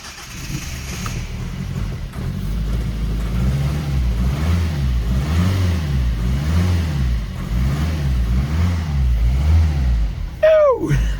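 A Ford Focus engine with a crank-no-start fault runs and revs, its close, loud idle swelling and dipping in a series of regular throttle blips before a sharp squeal near the end.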